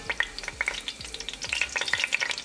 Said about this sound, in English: As the oil start to heat up, 1 teaspoon cumin seed